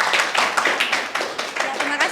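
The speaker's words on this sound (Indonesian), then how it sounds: "Tepuk tangan dulu dong kelompok 1." A group applauds after a presentation with steady, dense clapping that fills the room, while voices speak over it.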